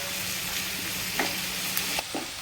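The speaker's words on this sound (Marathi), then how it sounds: "आता तुम्ही पाहू शकता आपला कांदा छान असा परतत आहे" Chopped onion sautéing in a pan for Maharashtrian kurdai bhaji, a steady close sizzle and hiss throughout with a few soft spatula stirs and scrapes near the end.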